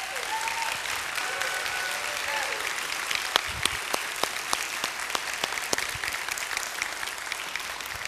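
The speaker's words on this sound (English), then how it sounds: "give our seniors a round of applause" Audience applause for the seniors at a Sunday church service, a steady mid-level clapping that runs the full length with a few sharper individual claps standing out, and no talking over it.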